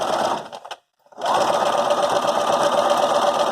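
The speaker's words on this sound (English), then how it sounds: "I'm going to stitch right in between here." Sewing machine stitching in the ditch of a seam on a fabric face mask: a near, steady rapid whirring hum that stops briefly after a short first burst, then runs continuously.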